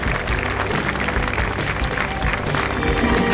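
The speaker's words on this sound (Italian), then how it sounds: "Mi ci vuole un applauso per Issa." An audience at a beauty pageant final applauds in a dense, steady wash of clapping for a contestant, loud and continuous throughout with no talk over it.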